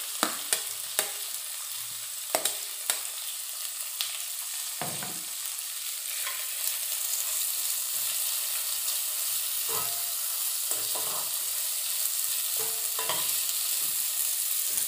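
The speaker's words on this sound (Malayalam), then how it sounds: "അതിലേക്ക് സവാള ചേർക്കാം" Sliced onion frying in a pan for a mango curry, a steady sizzle throughout with scattered clinks and scrapes of a spoon stirring, close and alone without talk.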